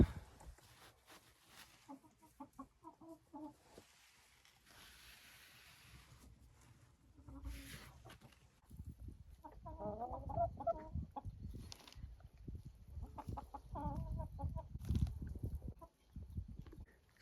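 Hens cluck in a coop in freezing weather: soft, intermittent calls come and go close by, mixed with rustling and scratching that grows busier toward the end.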